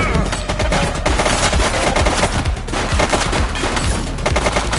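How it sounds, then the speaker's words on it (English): Rapid bursts of gunfire from a shooter in The Precinct video game, loud and dense, rattling continuously through the whole stretch like machine-gun volleys amid game noise, with a faint voice underneath. "He's shooting!"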